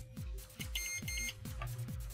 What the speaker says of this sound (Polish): Weźmy sobie pikacz.